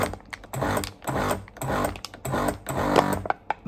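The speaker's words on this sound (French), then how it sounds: "Là, je vais utiliser vide par impulsion." A FoodVac Inox Pro 40 external-suction vacuum sealer pumping in short pulses, its motor whirring in five or six repeated bursts with brief gaps, close and fairly loud with no talking.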